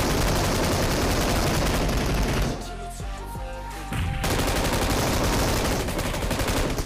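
An M249 machine gun in PUBG Mobile fires in loud, dense bursts of rapid shots that carry through most of the stretch, with a brief quieter lull in the middle.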